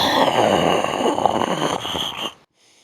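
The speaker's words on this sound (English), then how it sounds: "If you opened this video you definitely are familiar with this sound." One long, loud, rasping snore sounds close by for over two seconds, then cuts off into silence.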